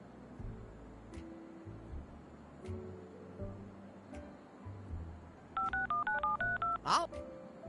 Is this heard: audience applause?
no